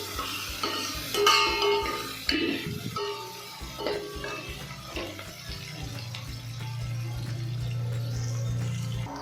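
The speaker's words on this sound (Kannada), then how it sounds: "ಆನಿಯನ್ ಕಲರ್ ಚೇಂಜ್ ಆಗೋದು ಚೆನ್ನಾಗಿ ಫ್ರೈ ಮಾಡ್ತೀನಿ." Onions and curry leaves fry in a pan for a drumstick sambar, giving a steady sizzle with occasional stirring scrapes and clatters, fairly close and continuous with no talking.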